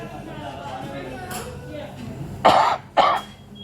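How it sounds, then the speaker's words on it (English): Two loud, harsh coughs in quick succession near the microphone, following a stretch of quiet talk. "Got a bad cough."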